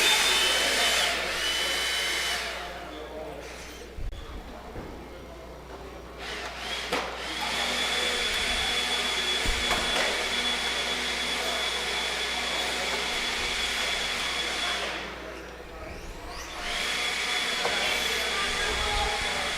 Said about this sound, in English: Let's grab those blowers, guys.